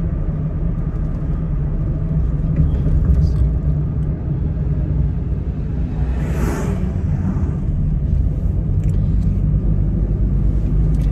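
Steady low engine and road rumble fills the cabin of a Perodua Axia with a naturally aspirated 1.0-litre engine while driving, an even drone throughout with no talk.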